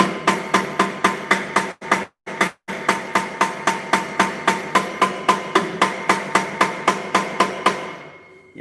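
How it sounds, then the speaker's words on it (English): A hammer strikes rapidly and repeatedly on a stuck Kohler flywheel of an old welder generator, producing sharp metallic blows in a fast, steady rhythm that pauses briefly twice, loud and close with no talk. "this would basically do the same thing as the impact hammer."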